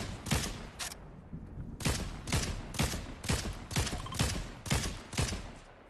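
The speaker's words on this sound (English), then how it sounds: "I'm gonna shoot him" Video game gunfire rings out as about ten sharp, evenly spaced shots crack loudly and close by, with short gaps between them and no talking.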